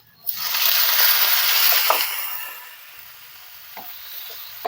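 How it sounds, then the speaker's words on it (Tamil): Chopped tomatoes hitting a pan of hot oil with onions, a sudden loud hiss that fades gradually into a quieter sizzle, with a couple of faint utensil taps, close by. "இப்போ தக்காளி வந்து நல்லா வதங்கட்டும்."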